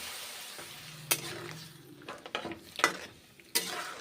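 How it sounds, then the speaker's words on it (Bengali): Papaya pieces go into a pan of cooked spice paste, giving a short close burst of sizzling and stirring, with a few sharp knocks and scrapes of a utensil against the pan and no talking. "পেঁপেগুলো এখন দিচ্ছি কষা মশলা হয়ে গেছে"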